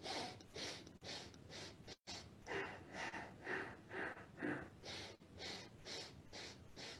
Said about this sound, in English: Five forceful exhales.